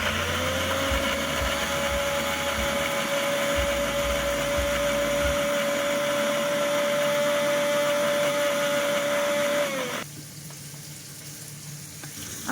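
Electric kitchen grinder whirring steadily as it blends ginger, green chili, tomato and whole cumin into a paste, a loud constant motor whine for about ten seconds before abruptly cutting off to near quiet.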